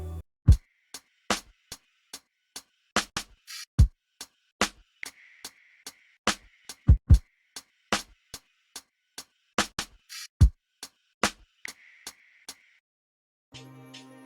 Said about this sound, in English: I then added a drum loop, which I got from a sample pack, and this is how the drums sound like.